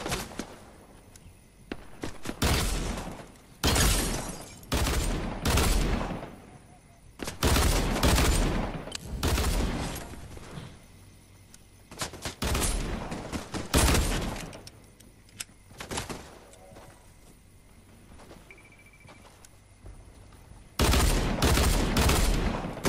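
Gunfire in Fortnite comes in several loud bursts of rapid shots separated by quieter gaps with footsteps and light movement, and a final burst closes the stretch.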